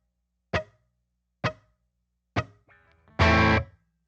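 An electric guitar in a clean tone with no reverb plays three short plucked notes spaced about a second apart, then a brief quieter phrase and a louder strummed chord, each dying away quickly and dry.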